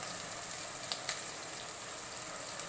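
Onion, green chili, garlic and ginger sizzle steadily in hot coconut oil for a Kerala-style pork dish, a close, even hiss with small crackles.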